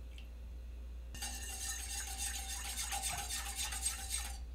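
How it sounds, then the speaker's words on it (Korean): Steady scraping and swishing of a utensil stirring milk and vinegar in a pot over low heat for mozzarella, continuous and close, with a faint clink near the start. "계량한 식초를 냄비에 넣어주고 잘 저어주세요."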